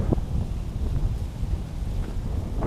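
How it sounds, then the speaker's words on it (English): Wind gusting through a park in Memphis, Tennessee, a loud, steady low rumble of buffeting against the microphone that persists throughout, with no speech. "the wind is starting to pick up"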